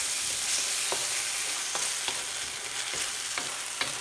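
Tomato ketchup and onions stirred together in a hot pan for Gobi Manchurian, a steady close sizzle with a series of light, irregular spatula taps and scrapes, no talk.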